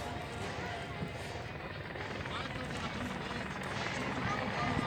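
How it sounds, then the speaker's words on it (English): An H-125 helicopter flies at an airshow, its rotor and turbine a broad steady rumble under a commentator's voice on the public address. "It's an H-125 helicopter."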